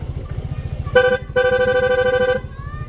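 A Rusi RFI 175 motorcycle sounds its horn twice, a short blast then a longer steady one, loud and close over the bike's rapid, even idle thumping that runs throughout.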